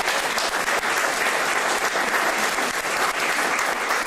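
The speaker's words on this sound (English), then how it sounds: "Let's give him a hand." An audience at a community organizing event on trafficking claps steadily, a dense, continuous wash of applause that stays loud and even for several seconds with no voices over it.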